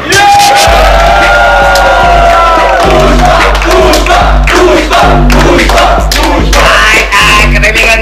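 A large audience at a live TV comedy show cheers, whoops and shouts loudly over a pounding, steady music beat, forming a dense, continuous roar throughout.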